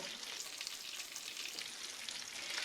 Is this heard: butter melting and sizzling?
yes